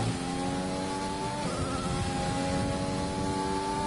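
A McLaren Senna race car on track in a racing video game holds a steady, high engine whine with a slight rise in pitch, continuous and fairly prominent throughout.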